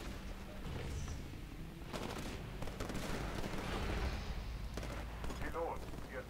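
Broadband bursts of gunfire and explosions from the Titanfall multiplayer video game run continuously at steady loudness, with voices talking over the combat.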